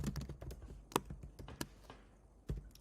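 Rapid typing on a computer keyboard, a close run of light clicking keystrokes with a few louder taps and a short pause before a final pair of strikes.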